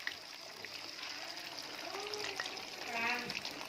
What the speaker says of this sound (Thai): ตั้งกระทะใส่น้ำมันน้ำมันร้อนแล้วก็ปลาลงเลย